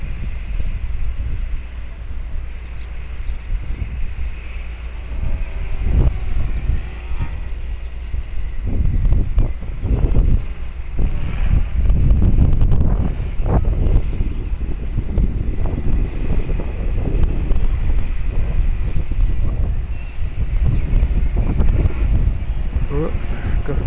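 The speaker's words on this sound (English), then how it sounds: "Oops, gust of wind." Gusty wind buffets a small HK-450 flybared RC helicopter in flight, a steady rushing roar with surges of low rumbling microphone buffeting over the rotor drone, strongest in the middle stretch.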